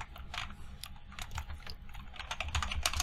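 Fingers tap rapidly on a computer keyboard, a close, quiet run of uneven clicking keystrokes with no other sounds.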